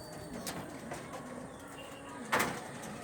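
Fancy pigeons of Teddy and Kamagar breeds coo softly in a loft, low murmuring calls under faint background noise, with a brief sharper sound near the end.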